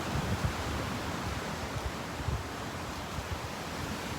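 Heavy, continuous roar of stormy ocean surf with deep rumbling surges, big waves crashing repeatedly in the distance, mixed with wind noise against the microphone.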